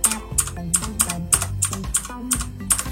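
Shift and arrow keys pressed on a computer keyboard, a steady run of crisp, close keystrokes at a regular pace, about three per second, alone with a faint tonal hum underneath.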